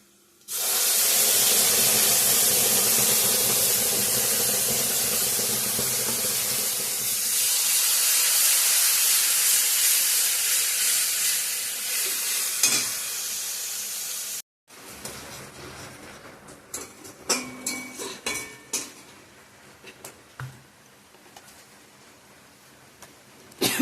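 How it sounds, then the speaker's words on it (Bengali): Spice paste of onion, tomato and chilli hits a hot pan with a loud steady sizzling hiss that later breaks into quieter spluttering crackles and stirring scrapes, close by with no talk. "এখন পেস্ট করা মশলাটা দিয়ে দেব এখানে আছে পেঁয়াজ টমেটো"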